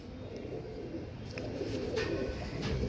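Tiger breed pigeons cooing, a soft low continuous murmur of coos that stays steady and close for the whole stretch, slightly fuller toward the end, with no voices.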